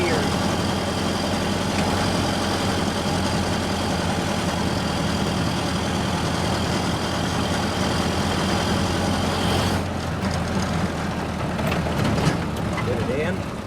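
A 1929 Ford Model A drives along with a steady, loud engine drone and road rumble throughout, while people talk over it.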